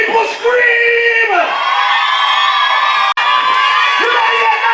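A live concert crowd in South Africa screams and cheers loudly and continuously, a dense wall of whoops and yells with brief dips, at a DJ tribute show.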